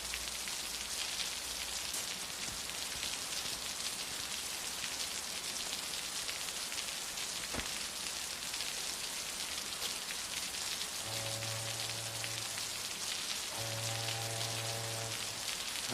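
Steady rain falls and patters on surfaces, an even wash of sound that holds for the whole stretch, with a faint low hum joining near the end.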